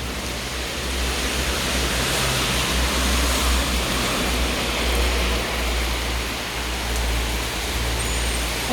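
Heavy rain pours onto a Dorobanti street in Bucharest in May, a dense, loud, unbroken hiss with a low rumble of traffic underneath.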